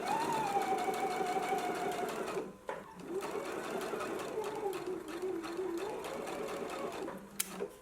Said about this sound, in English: now we can go to the sewing machine and we want to just stitch in our 5/8 of an inch seam allowance